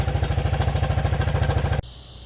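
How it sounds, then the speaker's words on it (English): A Suzuki LT 160 ATV engine idles after carburetor tuning, a loud, close, steady rapid putter with even thumping pulses that cuts off abruptly near the end. "As that engine gets warmer, the idle's going to adjust a little bit."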